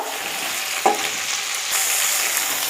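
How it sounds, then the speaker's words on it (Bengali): Ridge gourd, potato and pointed gourd fry in a pan of oil, a loud continuous hissing sizzle with a brief stirring knock, the sizzle swelling as stirring continues, no talk. "আমি এখন ঝিঙে দিয়ে একটু ভেজে নিচ্ছি।"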